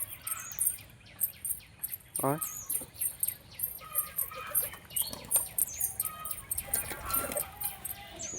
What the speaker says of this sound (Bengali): এক একে সব পায়রাগুলো চলে আসছে আমার কাছে।